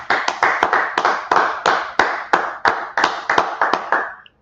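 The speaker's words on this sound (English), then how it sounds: "go ahead and clap it up." Hands clapping at an Israelite School of Universal and Practical Knowledge brotherhood class, about a dozen loud, close, slightly uneven claps that stop abruptly.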